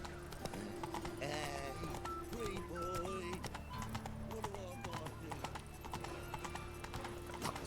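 Horse hooves clip-clop steadily in the World of Warcraft video game, a rhythmic patter with occasional neighs, layered under tonal game sounds and a voice.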